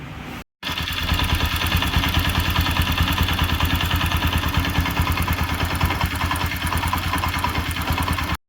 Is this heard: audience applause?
no